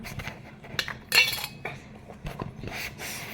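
Small toy steel plates, spoons and utensils clink and rattle against each other up close, in short irregular bursts of bright metallic chinks with quiet gaps between.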